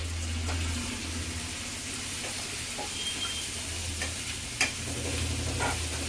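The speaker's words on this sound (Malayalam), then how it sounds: "അപ്പോൾ അതെല്ലാം ഇട്ട് വഴറ്റുകയാണേ" Curry ingredients sautéing in a pan make a steady, close sizzle, broken by a few sharp spoon taps and scrapes against the pan, with no voices.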